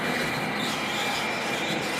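A Lionel model train runs fast around an upstairs home layout, producing a steady, close, continuous rolling rumble and metallic rattle with no voices.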